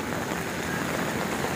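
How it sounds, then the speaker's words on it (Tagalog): Heavy rain pours steadily during Typhoon Ulysses near Manila Bay, a dense, continuous hiss of downpour on surfaces with no pauses and no voices. "malakas ang ulan."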